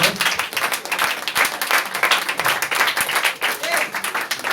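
A church congregation applauds together in dense, steady clapping with a few voices mixed in, close and lively throughout.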